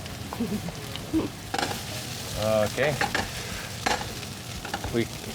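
Cooked rice stirred and fried in a hot pan as filling for Mexican stuffed tomatoes, with repeated scraping strokes over a constant close sizzle and one brief spoken word.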